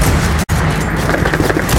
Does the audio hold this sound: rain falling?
no